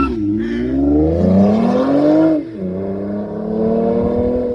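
A tuned Toyota Camry with a D3 Performance tune accelerates hard from zero to sixty, its engine note rising loudly and steadily, dipping briefly at a gear shift before climbing again, close and dominant.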